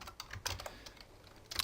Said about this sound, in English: I wouldn't be sitting here typing each one hand by hand